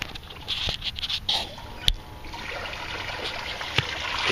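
Water trickles and splashes into an aquaponics grow bed, coming in fast against an auto siphon, a close, continuous gurgle with a few sharp knocks and drips scattered through it.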